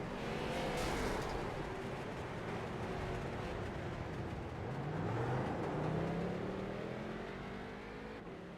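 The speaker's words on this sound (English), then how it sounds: "let you listen to these cars rumble around Milwaukee Mile" Street stock race cars rumble around the Milwaukee Mile oval under caution, a steady layered engine drone with several cars passing near and far, their pitch rising and falling continuously throughout.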